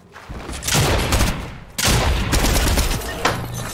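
Shotgun blasts in the video game Fortnite ring out as loud, sharp bursts: one near the start, a second a second later, then a smaller shot, each trailing into dense rattling noise with little talk.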